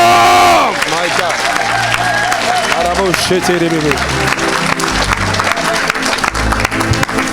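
Church congregation cheering and applauding, loud dense clapping and shouts from a large crowd filling the whole clip, with a preacher's voice speaking over the noise.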